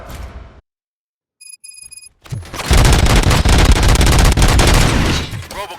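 Loud, dense bursts of gunfire fill the second half of RoboCop: Rogue City's game scene, rapid volleys sustained for several seconds after a short silence and a few faint electronic tones.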